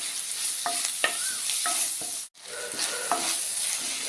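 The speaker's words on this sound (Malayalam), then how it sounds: "കറിവേപ്പില പിന്നെ ഒരു വലിയ ടൊമാറ്റോ ഇതെല്ലാം കൂടെ നന്നായിട്ട് വഴറ്റിയെടുക്കണം" Curry leaves and tomato sautéing in a pan, a steady close sizzle of frying with a few scraping stirs of a spatula and a brief dip near the middle.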